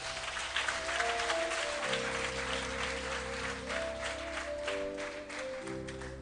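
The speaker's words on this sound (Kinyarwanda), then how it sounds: "Komera Imana amashyi" A church congregation at a prayer service for the sick applauds God, a steady wash of clapping held under sustained keyboard chords, moderately faint and without talk.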